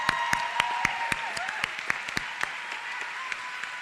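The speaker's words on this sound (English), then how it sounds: "let's all cheer them on" An audience at a high school recognition night applauds and cheers students, with sharp, close individual claps standing out over a steady wash of clapping.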